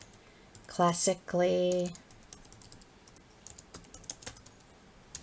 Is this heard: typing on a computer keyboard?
yes